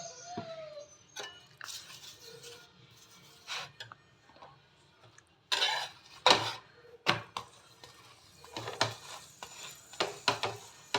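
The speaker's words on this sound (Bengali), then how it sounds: "আমি তেল দিয়ে ভাজছি" Paneer pieces frying in oil in a pan, a soft low sizzle under frequent scraping and clinking of a spatula against the pan, quiet overall.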